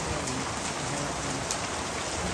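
Hail falling on a house, a dense steady patter of pellets striking the roof and surfaces, continuous and fairly close with no talking.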